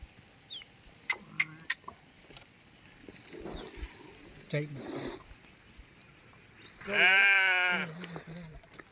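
Sheep bleat loudly once near the end, a long wavering cry, after scattered voices, clucks and small farmyard noises in a village yard while tea is made over a wood-fired stove.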